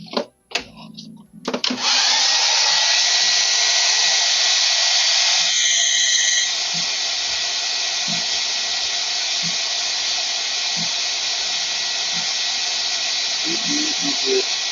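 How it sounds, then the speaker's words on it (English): After a few brief knocks and sounds, a hair dryer switches on and blows with a loud, steady whooshing hiss, dropping slightly in intensity midway. "make this microphone not get blasted out by the hairdryer"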